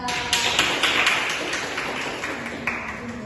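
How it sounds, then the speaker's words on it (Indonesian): A classroom gives a short round of clapping for group one during a micro-teaching lesson, several people's hand claps rising and fading over a few seconds. "Mari kita berikan aplaus kepada"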